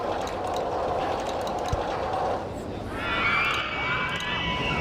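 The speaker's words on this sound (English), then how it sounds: "So that's right where the train is." A roller coaster train runs along its track in the RollerCoaster Tycoon 2 video game, with a steady rumbling clatter, crowd murmur in the park and rising squealing wheel tones near the end.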